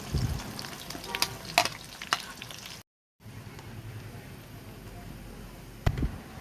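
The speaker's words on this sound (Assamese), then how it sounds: "এয়া মই পিয়াজ দিলোঁ।" Onions frying in hot refined oil with whole garam masala and bay leaves, a close steady sizzle with intermittent stirring clatters and a brief silent gap partway through.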